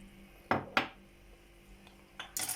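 A jar lid is pressed shut over preserved lemons in a home kitchen, giving two sharp clinks close together, then a quiet pause and a scraping, rattling clatter at the end.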